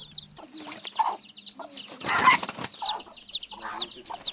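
A mother hen in a traditional backyard flock clucks softly and repeatedly close by, with high chick peeps scattered around her and a brief burst of flapping or scuffling midway.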